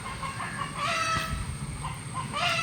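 A chicken clucks in short, fairly close bursts against a busy background, with a few louder squawks near the middle and end.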